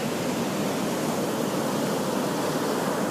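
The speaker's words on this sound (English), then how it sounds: "Another wall of water coming." Big ocean waves pound the shore at Hanalei Cove, a continuous loud roar of surf and churning water with no breaks, filling the whole stretch.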